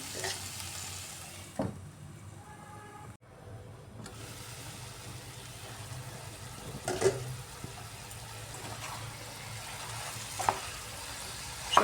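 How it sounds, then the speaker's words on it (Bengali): Cauliflower and potato cooking with rohu fish in a pan, a soft steady sizzle and frying hiss with occasional stirring clatters and scrapes from a spoon, close and moderately quiet. "এবার এটাকে আমি ভালোভাবে কষিয়ে নিচ্ছি"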